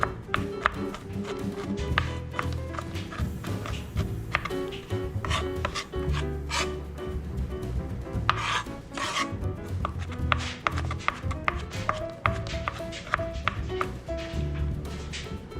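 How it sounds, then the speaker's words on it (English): Garlic minced with a knife on a board, a rapid run of close, crisp chopping taps with rocking and scraping strokes continuing for about fifteen seconds. "You do not want giant chunks of garlic in this, so take your time and mince it all up."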